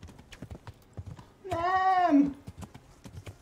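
Horse hooves in the video game Kingdom Come: Deliverance clop in a steady, rapid gallop throughout, broken midway by a loud whinny, with a brief spoken exclamation over it.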